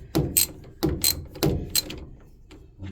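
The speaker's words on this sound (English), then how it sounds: "And just that simple, we're unscrewing it." Clicking, ratcheting mechanical sounds from unscrewing a part of a washing machine during a repair, in three close bursts of sharp clicks followed by quieter scraping, heard up close with no talk.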